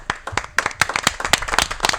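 Live audience on a French nighttime game show applauds a contestant, a lively run of dense, irregular hand claps close to the microphone.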